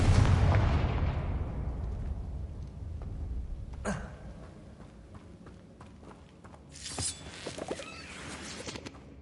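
A Confringo fire spell explodes in the Hogwarts Legacy video game, opening with a loud booming blast that decays, followed by a sharp crack and a later burst of rumbling and crackling.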